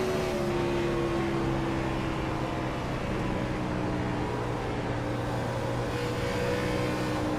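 A race car engine held at part throttle on the straightaway in the racing game iRacing at Texas, a steady, loud drone with a slowly shifting pitch and no sharp revving.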